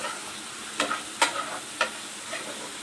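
Vegetables fry in a pan while half a spoon of pepper powder goes in for a creamy white sauce pasta, a soft, steady sizzle broken by a few sharp stirring scrapes.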